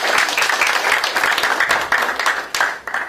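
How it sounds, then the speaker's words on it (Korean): Guests are welcomed with applause at a founders' meeting of a forum on coexistence and unification, a loud, dense, close round of clapping from a small room that carries on steadily for a few seconds. "박수로 환영해 주시죠."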